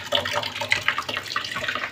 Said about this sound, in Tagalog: Ay, mag-ipon-ipon na kami ng tubig.